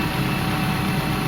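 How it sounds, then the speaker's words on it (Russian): A 1997 Ford Galaxy with a 2.3 litre Y5B engine idling while it warms up after an overhaul, a steady, even low hum with constant loudness and no talk. "Двигатель шепчет."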